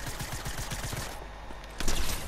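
Gunfire in the video game Fortnite, shotgun blasts landing as a dense burst of rapid bangs close up, with a louder sharp shot near the end.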